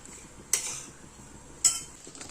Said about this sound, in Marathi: लगेच त्यात खोबरं घालून घ्यायचंय आणि खोबरं पण कोरडच छान आपल्याला भाजून घ्यायचंय